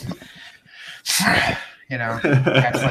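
A person imitates a snort exhale with a sharp, breathy nasal burst that stands between stretches of their own speech, loud and close.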